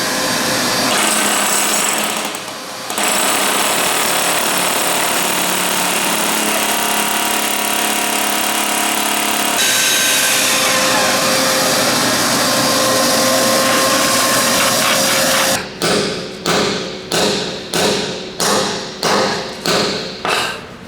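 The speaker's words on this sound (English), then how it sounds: "Oh, this thing's got a jackhammer in it." Rotary hammer drill boring into concrete while installing a two-post vehicle lift, a long continuous loud grinding roar, then a run of about ten sharp rhythmic hammer blows near the end.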